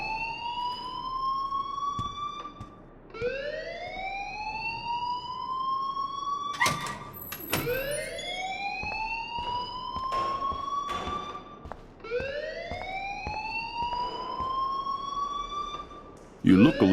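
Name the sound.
fire alarm ringing in video game Life is Strange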